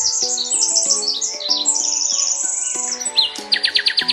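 Bright, busy bird chirps and tweets fill the clip, a parrot squawking with rapid repeated calls that grow choppier and more staccato toward the end, loud and close with no talking.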